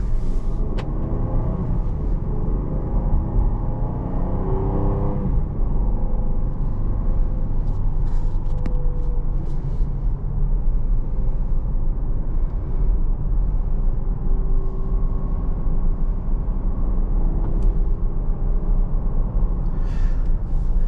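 A 2022 Jeep Grand Cherokee Overland on the road: a steady, loud low engine and road rumble drones inside the cabin for the whole stretch, with faint tyre and wind hiss above and no voices.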